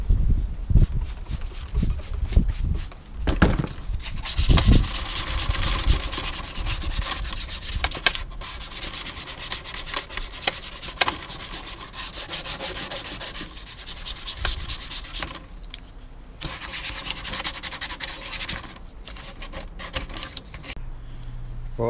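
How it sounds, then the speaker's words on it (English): Steady abrasive sanding of the rocker panel on a Ford Fiesta MK6, a continuous close scraping rub with brief pauses and a few knocks, running throughout with no speech. "I'm gonna start sanding it now"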